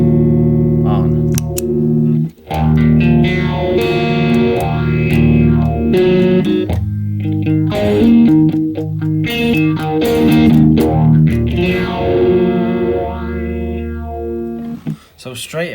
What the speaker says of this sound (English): let's see what happens when we turn on the summer orange